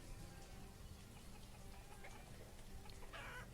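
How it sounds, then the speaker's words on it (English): Backyard chickens cluck at intervals in the village-building game Banished, faint and small amid a steady bed of ambient game sound and music. "And how are these little backyard chickens doing?"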